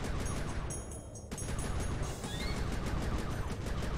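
Fireworks bursting in the PS2 game Sly 3: Honour Among Thieves, a dense, loud crackling barrage of rapid explosive pops that runs steadily throughout with a brief dip partway through.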